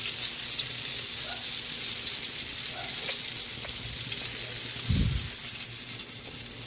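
An eggplant omelette (tortang talong) fries in a pan, giving a steady close hiss of sizzling oil with a short low thump near the end.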